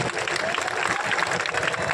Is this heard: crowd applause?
yes